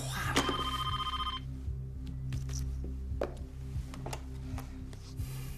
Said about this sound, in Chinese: 打个电话